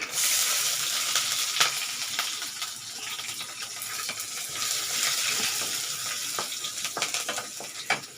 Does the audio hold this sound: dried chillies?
yes